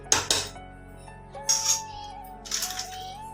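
Sprouts masala curry being stirred in a pan, with a few sharp metallic clinks and scrapes of a spoon against the pan in separate bursts over a quiet background with a faint steady hum.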